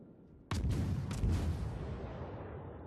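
A warship's guns in a video game fire at a destroyer: one loud, sudden boom with a couple of quick follow-up cracks, then a long rumbling tail that slowly fades.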